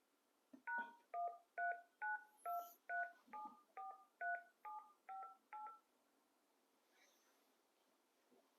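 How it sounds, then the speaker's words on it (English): A GSM fixed-wireless desk phone redials a number, sending eleven short, evenly spaced DTMF tone beeps in quick succession, clear and fairly close, followed by faint line noise. "Let me check this the redial here."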